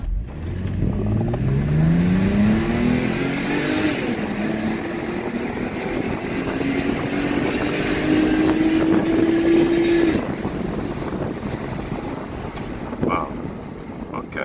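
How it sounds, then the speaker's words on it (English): A Mercedes 300CE 24-valve car accelerating hard from a standstill, its engine note climbing steadily in pitch through the gears for about ten seconds under wind buffeting, then easing off. "I'm gonna give it an acceleration right here, just to give it a sprint review"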